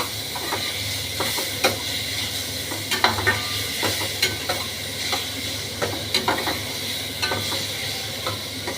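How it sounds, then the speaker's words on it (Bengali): Tempering spices (fennel, carom, fenugreek, mustard seed, cumin) and green chili frying in a pan on medium-low heat: a steady close hiss with regular scraping stirs and soft knocks of the spatula, no voices. "এটাকে আমি এখন মিডিয়াম টু লোতে নাড়ানাড়ি করছি"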